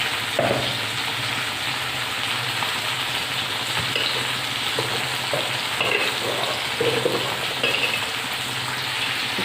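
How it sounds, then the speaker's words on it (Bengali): Gobindobhog rice payesh with powdered milk boils in a pot, giving a loud, steady bubbling hiss that sounds close and continuous, with occasional soft pops and no speech. "আর একটু ফুটবে আমার একদম রেডি"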